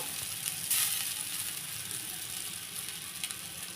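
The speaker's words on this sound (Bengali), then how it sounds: "তো প্রথমে চাউমিনটাকে একটু হালকাভাবে ভেজে নেব" Chow mein noodles fry lightly in white oil with a steady, close sizzle and soft crackle throughout, one brief louder burst near the start, and no talking.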